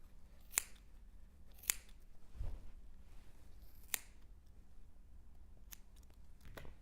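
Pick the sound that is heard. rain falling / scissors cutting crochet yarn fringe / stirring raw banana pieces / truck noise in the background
scissors cutting crochet yarn fringe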